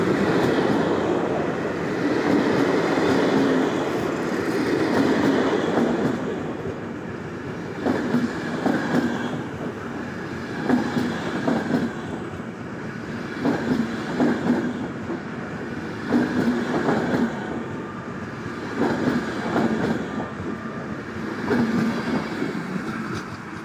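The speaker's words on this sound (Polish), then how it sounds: "Wjeżdża pociąg Intercity Batory ze stacji Terespol do stacji Praga Chlawni Nadraży" An Intercity Batory passenger train from Terespol rolls into Warszawa Wschodnia station, a steady rumble giving way to rhythmic clickety-clack of wheels over rail joints, moderately loud and continuous with no voices.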